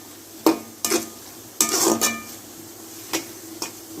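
A spoon scrapes and knocks against a pan as a ground onion-tomato masala is stirred and sautéed, several separate clinks and scrapes over a faint sizzle, with no speech.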